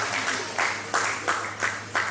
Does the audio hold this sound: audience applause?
yes